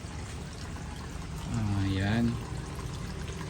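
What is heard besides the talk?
water being poured to refill crab boxes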